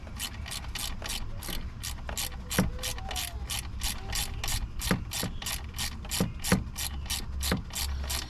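A ratcheting torque wrench tightens a bolt during an ECM and alternator install on a 2005 Duramax LLY 2500, its pawl clicking in a steady fast rhythm with occasional sharper clacks, close up and with no talking.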